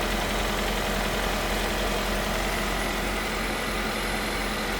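A Hyundai Ioniq hybrid's car engine idles steadily and fairly loudly throughout, a continuous low rumble with no voices.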